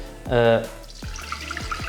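Milk and water are poured into a pan for choux pastry, a short run of liquid splashing and trickling heard close by after a brief voice at the start.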